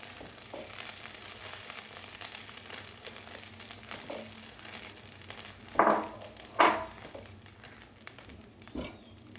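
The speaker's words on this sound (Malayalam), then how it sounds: "ഈ മാമ്പഴത്തിൻ്റെ പളുപ്പിലേക്ക് അത് നന്നായി തിളച്ച് കുറച്ച് വറ്റി വരുന്നുണ്ട്" Thick pulp simmering with a low, steady bubble, broken by a couple of loud, wet plops as bubbles burst, and one more softer pop near the end.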